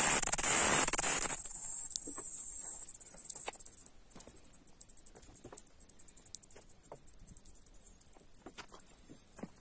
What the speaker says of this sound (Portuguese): Espécie de grilo aí cantando